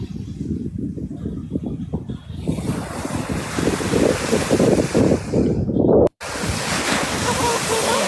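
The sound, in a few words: ocean waves breaking on a beach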